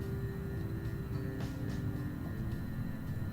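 A steady, broadband jet roar from the engines of an MD-80 airliner climbing in the X-Plane 11 flight simulator holds constant throughout, loud and continuous with no voices over it.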